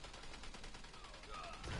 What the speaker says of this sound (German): Gib 2 Schuss ab, muss nachladen.